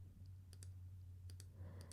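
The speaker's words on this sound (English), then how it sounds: "Okay, now I'm just clicking on random crap." A computer mouse clicks in quick pairs, three double clicks spaced out over a steady low electrical hum while solving a puzzle game.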